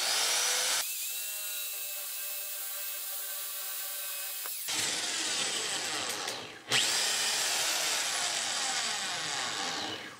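Power drill with a drill guide bores a 90-degree hole through plywood: a steady high whine that stops, then a rougher, louder grinding burst as the bit plunges through, with a brief catch before the motor runs on.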